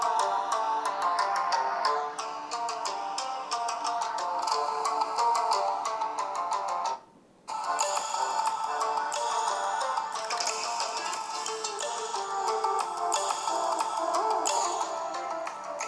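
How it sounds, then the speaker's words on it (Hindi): An Infinix Note Edge 5G phone plays a sample tune through its dual stereo speakers tuned by JBL, bright ticking melodic music that runs steadily, cuts out for a brief moment midway, then resumes, with no voices. "इस फोन की साउंड चला लेता हूँ यहाँ से।"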